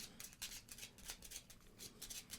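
A deck of action cards for a mint-tin deck-building game is shuffled, giving repeated crisp riffling bursts in a quick, uneven rhythm, close and fairly quiet, with no talk.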